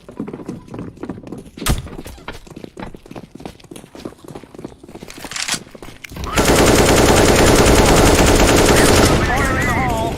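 Gunfire in the video game CS:GO: scattered clicks, footsteps and single shots at first, then a sustained, loud burst of continuous automatic rifle fire in the second half.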